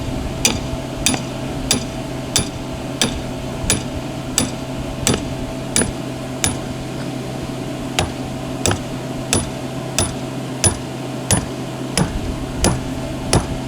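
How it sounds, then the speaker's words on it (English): A hammer drives stakes into the ground to anchor an outdoor bounce house, striking about twenty times in a steady even rhythm, each blow sharp and close, with no talking. "You're just going to come out here, take your hammer."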